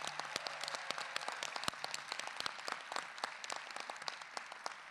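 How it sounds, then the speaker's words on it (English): A conference audience at a general session claps steadily, a dense, even wash of many hands applauding throughout, fairly distant and without cheering. "Let's please give them a round of applause."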